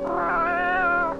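A single drawn-out cat meow, clear and fairly close, rising and then sliding down over about a second in a quiet setting with no talk.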